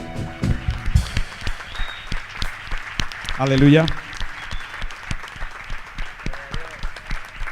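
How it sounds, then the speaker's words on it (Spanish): A church congregation claps in a steady rhythmic beat during a Sunday service, loud and sustained throughout, with a voice calling out briefly in the middle. "Dame un aplauso al Señor."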